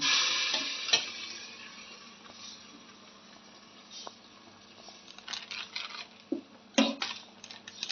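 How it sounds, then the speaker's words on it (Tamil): Onions with turmeric and salt sauté in a pan: a gentle sizzle under intermittent stirring scrapes and light clinks, growing busier and more clattery toward the end. "நல்லா இப்போ வதக்கி விடணும்."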